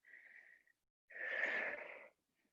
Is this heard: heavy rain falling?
no